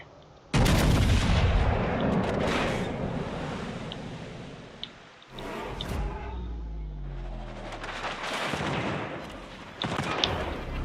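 Battleship main guns firing in a World of Warships Legends naval battle, with heavy booming salvos and rumbling reports rolling through most of the stretch, a brief lull near the middle before more firing.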